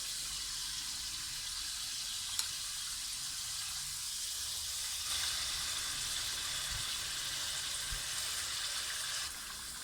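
Yogurt masala sizzles steadily in hot oil in a pot while mutton nihari cooks on high heat, a broad, continuous frying hiss with a few faint clinks and no speech.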